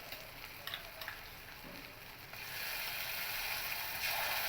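White mustard paste sautés lightly in a pan for a fish curry, a soft sizzle with a few early scraping stirs, then a louder steady frying hiss toward the end, no talking.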